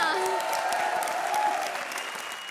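Studio audience applause on a Hindi TV comedy show, a steady wash of clapping lasting the whole stretch and slowly easing off near the end, with some tonal music or voice traces audible over it.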